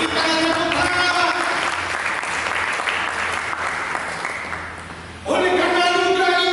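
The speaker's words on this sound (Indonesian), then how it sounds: "Berikanlah tepuk tangan." A church congregation applauds in a long, dense burst of clapping that gradually fades before a voice resumes over music near the end.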